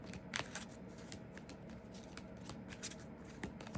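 A deck of cards is shuffled repeatedly by hand, soft riffling and flicking sounds close by, quiet and continuous.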